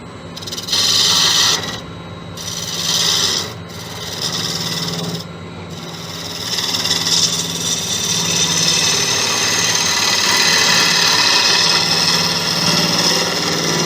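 Monkey puzzle wood rasps and scrapes against a cutting tool while being turned into a vase on a lathe, over a steady mechanical drone, the contact coming in bursts and then continuously.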